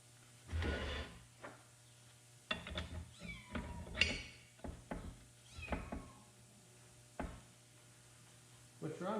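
A cat meows repeatedly close by in a quiet workshop where loader repair is underway, with several distinct cries spaced irregularly, interspersed with a few light knocks and soft shuffling.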